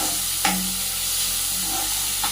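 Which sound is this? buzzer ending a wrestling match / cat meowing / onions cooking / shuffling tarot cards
onions cooking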